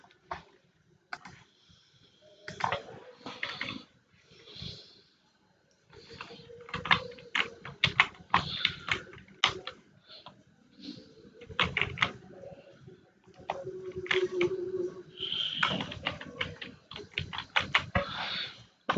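Bursts of brisk typing on a computer keyboard while entering text into a PowerPoint text box, quick clustered key clicks separated by short pauses, close and fairly quiet, with no talking.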